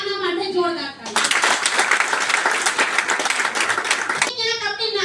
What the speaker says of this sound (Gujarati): તો પહેલા એકવાર પોતાના માટે જોરદાર તાળી